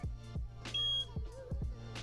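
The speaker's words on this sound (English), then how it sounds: "It will beep 4 times and then give one long beep" A Kingsong electric unicycle emits short electronic beeps during calibration, close by, mixed with a few low thumps and handling knocks over about two seconds.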